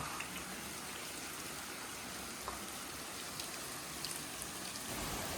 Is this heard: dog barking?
no